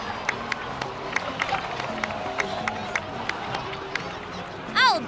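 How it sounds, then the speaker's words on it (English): A game crowd in Genshin Impact applauds and cheers in a sustained, even wash of clapping and murmuring, with a sharp chime-like flourish near the end. "please give another round of applause for them"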